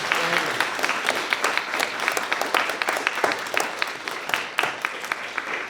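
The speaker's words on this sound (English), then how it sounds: "we want to give a big round of applause for our writers" An audience applauds steadily, a dense patter of clapping from many hands at moderate distance, with no talking over it.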